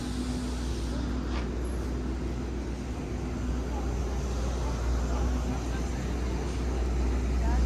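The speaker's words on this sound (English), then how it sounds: "Can we catch a ride with the bus?" A bus passes by outside on a road at the Jack Daniel's distillery, a loud steady engine rumble and broad roadway roar that builds slightly toward the end, with no talk over it.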